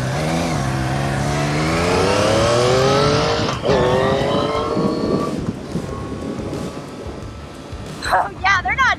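A sport bike motorcycle ridden fast, its engine note climbing steadily in pitch as it accelerates, loud and close, with wind rush and a brief burst of other sound near the end.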